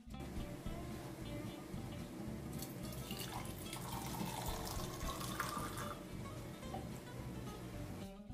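Tap water runs steadily into a container during a home morning routine, a continuous splashing stream with a brighter pouring patch midway, close and moderately quiet, with no one talking.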